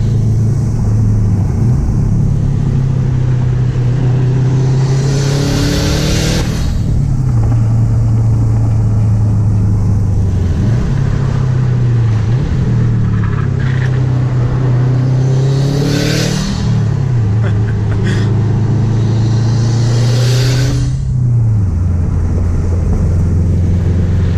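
A 2006 Subaru WRX with a big turbo producing 361 wheel horsepower, heard up close and loud as its engine repeatedly climbs through the revs and drops back between gears, with a throaty rumble and turbo whine.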